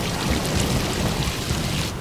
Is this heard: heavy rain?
yes